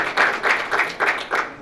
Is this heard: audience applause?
yes